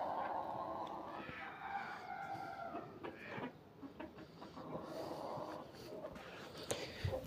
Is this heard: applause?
no